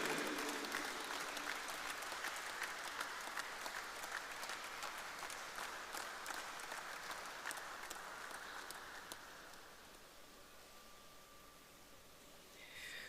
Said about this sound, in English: we need a rugby applause, Peter Wright rugby applause